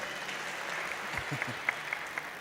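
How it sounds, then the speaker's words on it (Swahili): A church congregation at a Kikuyu-language service in Karatina Parish applauds, producing a steady, fairly soft patter of clapping with a few sharper claps popping out toward the end. "Tumpigie makofi tafadhali."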